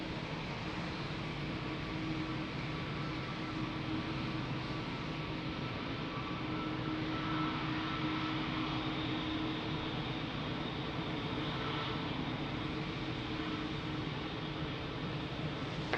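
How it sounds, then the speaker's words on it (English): American Airlines Boeing 787-9 jet at Lisbon Airport, a broad steady roar of engine noise filling the whole stretch at a constant level, heard from a distance without talk. "beautiful American 787-9"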